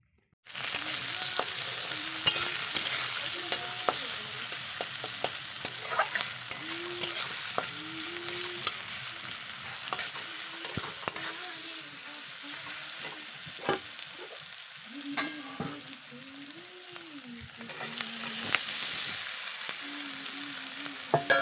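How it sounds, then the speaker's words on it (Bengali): Chicken being stir-fried with fried onion and chilli in a pan for chowmein with winter vegetables, a steady close sizzle broken by repeated scraping strokes of a spatula, with no talking. "তারপর যে মাংসটা ছিল ওটাকে ভালো করে আগে আমি কষিয়ে রেখেছি আর এখন আর একটু কষিয়ে নেব"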